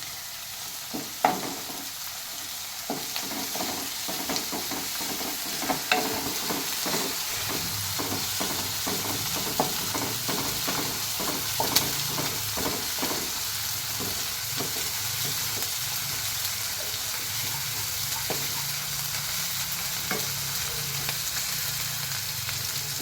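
Curry leaves crackle and sizzle in hot oil in a pan, a steady frying hiss studded with sharp pops and spatters that come thick at first and then thin out, heard close with no talking.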